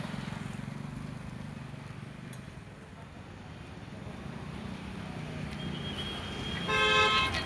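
Busy road traffic passing continuously, a low rumbling wash of vehicles with wind noise, and a car horn tooting near the end; faint voices occasionally under the traffic.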